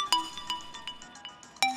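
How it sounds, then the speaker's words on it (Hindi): A bright electronic phone ringtone chimes in a quick melodic pattern, fairly quiet, with one louder note near the end. "तेरा फोन बज रहा है बे"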